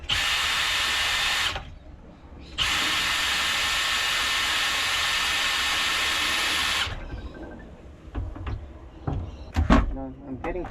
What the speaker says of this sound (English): I've got this drill, so I'm gonna mix the chemical using this,